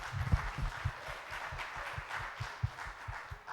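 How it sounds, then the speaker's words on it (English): Audience applause at a marketing panel discussion, faint and somewhat distant: a soft, steady patter of many hands clapping in loose rhythm, with no talk over it. "A big round of applause for Anshul"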